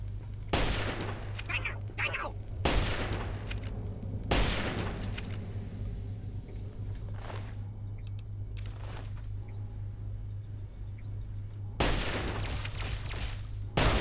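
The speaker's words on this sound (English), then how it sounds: "I have to imagine the acoustics in here would only make gunshots even louder" Gunfire echoes in an enclosed space in the video game Fallout 3, several loud bursts of shots separated by quieter stretches, with lighter sporadic cracks in between and a steady low hum underneath.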